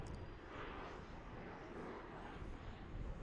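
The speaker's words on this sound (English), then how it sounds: "737-800 taken off right there at American Airlines." An American Airlines Boeing 737-800 takes off, its jet engines producing a steady, broad roar that holds at a constant level from a middle distance throughout.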